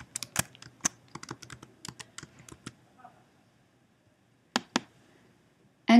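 Someone types a search on a computer keyboard: a quick series of close, crisp key clicks, then a pause, two more taps and a final click.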